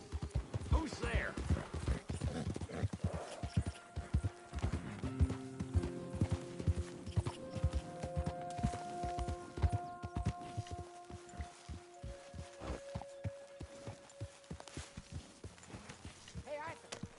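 Horse hooves clop rhythmically at a walk in the Red Dead Redemption 2 video game, steady and moderately close, with voices talking over them.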